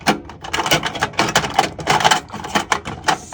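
Metal tools clatter and clink as a hand rummages through a crowded drawer during jewelry cleaning and restoration work, a dense run of sharp knocks and scrapes close by with no talking.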